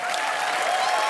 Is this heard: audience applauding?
yes